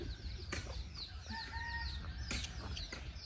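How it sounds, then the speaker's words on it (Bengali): Chickens cluck with small chicks peeping around them in a farmyard, a steady mix of short clucks, chirps and a few wing flaps, fairly close and without talk. "মুরগি আর সাথে মুরগির বাচ্চা"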